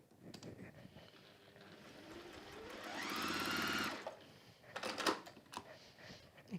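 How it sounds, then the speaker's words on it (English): A sewing machine stitches two fabric pieces placed right sides together, running in a steady mechanical whir that rises for a few seconds and then stops, with handling clicks and rustling before and after. "And they will go right sides together. And sew across there"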